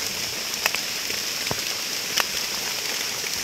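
Rain falling in a forest during mushroom picking, a steady close patter of drops on leaves with a few sharper individual drips.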